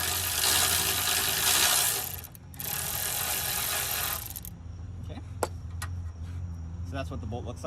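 A Milwaukee power ratchet fitted with a wobble extension whirs loudly and steadily, pauses briefly, then runs again while backing out 10 mm alternator bolts on a 2013–2014 Honda CR-V. After it stops, a few sharp metallic clicks and taps follow.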